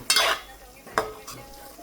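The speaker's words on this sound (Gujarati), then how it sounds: "ચાલો હવે ધાણા મિક્સ કરી નાખવાનું છે" A spoon scrapes and stirs masala with fresh coriander in a pan, three short scraping strokes with a soft sizzle underneath, close and fairly quiet, no voices.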